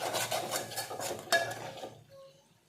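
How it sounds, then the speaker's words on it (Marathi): A spoon scrapes and stirs around a pan as Kashmiri red chili powder is mixed into shevga bhaji, a drumstick vegetable dish, making rhythmic close rasping strokes that fade into quiet sizzling. "यामध्ये आपण आता काश्मीरी लाल मिर्च पावडर टाकून घेऊयात आणि मिक्स करून घेऊयात।"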